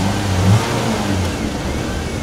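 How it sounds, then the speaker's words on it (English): A car engine running on LPG gas revs steadily, a dense mid-pitched roar with a brief surge early on, loud and close with no talking. "Now it's on gas and we can still rev."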